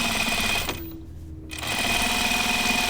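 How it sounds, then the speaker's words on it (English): Sewing machine top stitching along a serged seam on a denim jeans pocket, a steady continuous whir that pauses briefly midway and then resumes at a constant pace, close and alone. "I'm just top stitching it in that serge seam, just like that."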